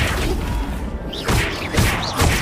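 Flipendo spell cast in a Harry Potter video game, heard as a few whooshing, thumping magical bursts over a continuous game backdrop, the hits landing in quick succession.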